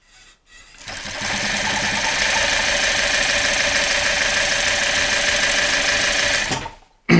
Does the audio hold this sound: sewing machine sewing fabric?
yes